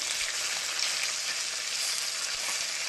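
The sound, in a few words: fish frying in a pan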